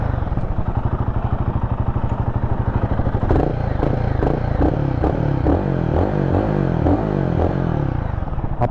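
A Royal Enfield Guerrilla 450 motorcycle idles nearby with a deep, steady thumping exhaust beat. Partway through, a few short throttle blips and light mechanical clatter ride over the rumble, with no clear speech.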